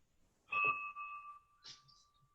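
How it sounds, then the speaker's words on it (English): A bell strikes once with a clear, sustained ring that hangs on and slowly fades in a quiet meeting room, followed by a few soft background murmurs. "There goes the bell."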